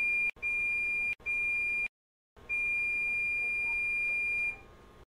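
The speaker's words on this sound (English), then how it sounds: "When the time reaches zero, the light will turn off and a long beep will sound." A teeth whitening lamp gives out steady electronic beeps at the end of its session: two short tones, a brief silence, then one long sustained beep of about two seconds, clear and close with no talk.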